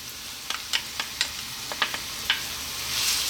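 Chopped onion and garlic fry in olive oil over medium heat, a steady close sizzle punctuated by several sharp spoon taps and scrapes, with the hiss swelling toward the end.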